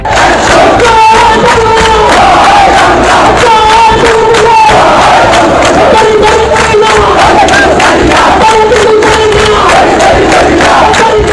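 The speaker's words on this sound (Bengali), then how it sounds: "আওয়ামী লীগের কর্মী সমর্থকদের এমন বিক্ষোভে উত্তাল রাজধানী ঢাকা সহ সারা দেশ" Awami League supporters protesting in Dhaka, a loud dense crowd of massed voices chanting and shouting in rhythmic waves, close and continuous throughout.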